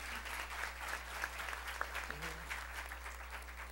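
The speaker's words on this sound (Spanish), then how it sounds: "Entonces le brindamos nuestros mejores aplausos" Audience applause at an accounting symposium, faint and distant, steady scattered clapping over a low hum for a few seconds.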